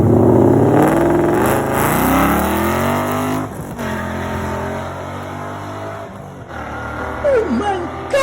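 A car engine fitted with long tube headers revs up and down close by, loud and throaty, its pitch climbing and falling over several strong pulls before settling into a rumbling idle.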